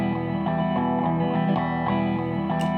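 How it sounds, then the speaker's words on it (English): Guitar played through a looper pedal with imperfect loop timing, producing a dense sustained strummed layer whose repeating pattern pulses unevenly, loud and close, without talk. "that definitely doesn't sound good because it's not a perfect loop"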